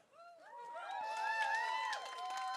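An audience at an Arctic arts summit live event cheers, with rising and falling whoops and whistles that swell after the first half second and stay lively and fairly distant.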